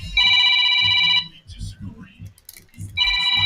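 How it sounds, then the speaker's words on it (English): A telephone rings with an incoming call during a live online debate, two loud, bright bursts of electronic ringing separated by a pause in which a person talks. "A phone call coming"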